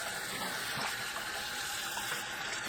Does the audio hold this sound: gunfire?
no